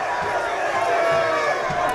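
A student crowd at a high school football rivalry game between Ooltewah and East Hamilton roars steadily with broad, sustained cheering, and a voice talks over it.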